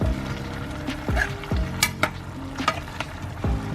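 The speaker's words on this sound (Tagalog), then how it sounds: "So, haluin ko lang ng konti." Vegetables simmer in coconut milk for ginataang gulay while a spoon stirs them, making repeated scraping sweeps against the pot over a continuous bubbling sizzle.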